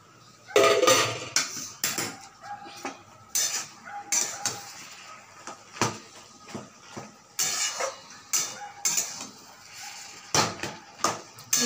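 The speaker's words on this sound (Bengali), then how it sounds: "এবার একটু খুলে নেড়ে দেবো।" Spinach and potato curry being stirred in a pan with a spoon, making repeated scraping and clinking knocks of metal on the cookware at an irregular rhythm, close and fairly loud.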